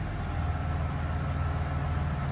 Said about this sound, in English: And you can hear the fans are running.